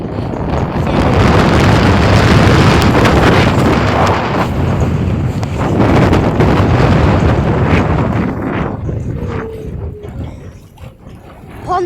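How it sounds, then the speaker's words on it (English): Strong wind gusts of up to about 50 miles an hour batter a pontoon in Whitby, making loud roaring buffeting and rumbling that fades near the end. "Pontoon's shaking violently at the moment with all this wind."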